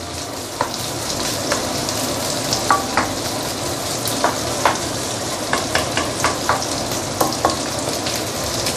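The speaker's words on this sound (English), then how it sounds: "you really want to saute until the fragrance starts coming out" Ginger, garlic and green onion sauté in a hot pan with a loud, steady sizzle, and a spatula taps and scrapes at a regular pace throughout.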